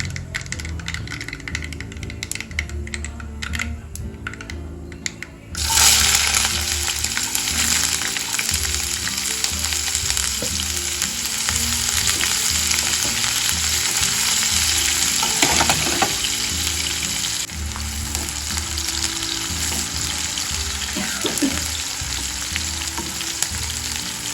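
Finely chopped onion drops into spluttering mustard seeds in hot oil. After a quieter crackle, the sizzle jumps to a loud, steady hiss with occasional stirring clicks.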